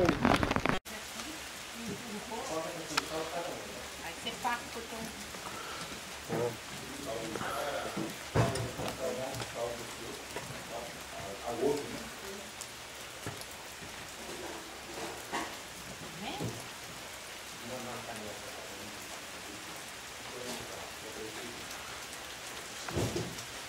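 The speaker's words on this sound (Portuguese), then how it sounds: "Chuva chovendo." Steady rain falls outdoors at a country farm, a dense continuous patter with scattered louder drops close by, while people talk intermittently throughout.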